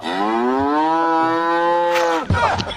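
A buffalo gives one long, loud moo that holds steady with a rich harmonic tone for about two seconds, then breaks off into a rough huff, close by with no talk.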